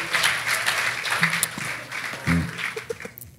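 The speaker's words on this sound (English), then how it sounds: "Let's just give him a clap." A congregation at a Sunday church service gives a short burst of clapping, a few seconds of mixed hand claps with some background noise and a brief low thump.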